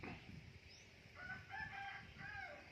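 A rooster crows, a drawn-out call broken into several rising and falling segments, moderately distant over a steady background hiss.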